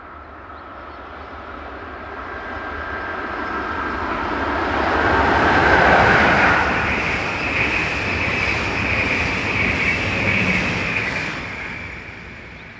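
Swiss Re 460-020 electric locomotive heads an interregional train from Bern, approaching and swelling in volume to a broad rumbling roar that peaks mid-pass and stays steady, with no talk.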